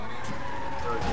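An ambulance siren in the game GTA 5 wails steadily under overlapping talk and laughter, with a continuous tonal whine running throughout the short moment.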